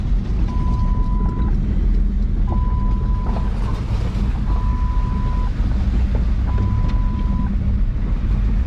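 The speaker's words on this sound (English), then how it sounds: "We're in a Ford Ranger." A Ford Ranger truck drives through the Everglades with a constant loud low rumble and wind buffeting. A thin electronic chime repeats four times at even intervals over the noise.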